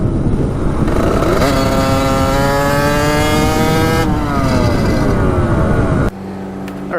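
A $380 dirt bike engine revs hard and loud, its pitch climbing and falling in long sweeps close by, then cutting suddenly to a lower idle near the end.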